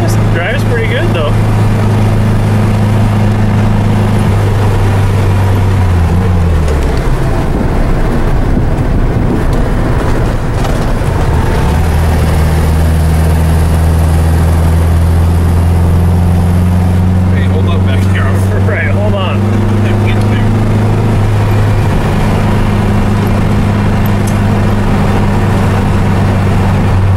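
A Volkswagen car engine drones steadily while driving, its low hum shifting pitch a few times as the car changes speed, with wind noise throughout and someone talking over it.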